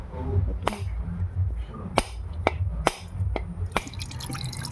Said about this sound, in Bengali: নারকেলটাকে ফাটিয়ে আর জলটা বের করে নেবো